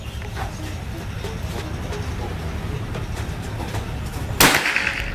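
A single sharp report from a PCP air rifle fired at a white paper target, a loud sudden crack near the end after a stretch of steady background rumble.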